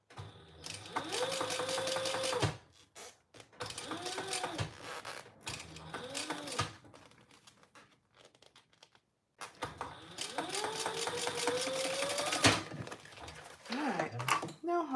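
Sewing machine winding a bobbin whirs in several long, close runs with pitch rising as it speeds up, broken by pauses and mechanical clicks.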